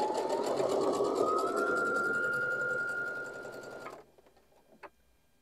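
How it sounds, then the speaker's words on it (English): A sewing machine stitches quilt fabric in one continuous run whose whine climbs slightly in pitch, then stops abruptly, leaving near silence and a single small click. "take little short spurts of sewing and then just stop and rearrange your fabric if need be"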